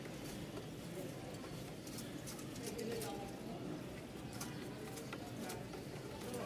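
Pigeons coo at a pigeon farm in Mirpur, their soft calls blending into a dense, steady wash of background noise and murmuring voices throughout.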